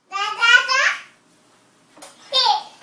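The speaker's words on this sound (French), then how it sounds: "le babillage des bébés" A baby babbles in two close, clear bursts of playful vowel-like sounds separated by a short silence.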